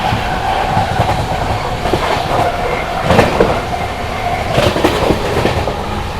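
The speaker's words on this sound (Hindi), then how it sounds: "110 की रफ्तार में यहाँ पर अपनी ऊंचाहार एक्सप्रेस ने जो है सोमना स्किप करा है" The 14218 Unchahar Express rushes past Somna station at about 110 km/h on a foggy day, a loud, close rumble with a rapid clickety-clack of wheels over rail joints and brief surges as the carriages pass.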